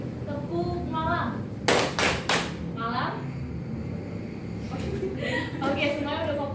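Students in a classroom clap game clap their hands in a quick cluster of three sharp claps. Voices talk before and after the claps.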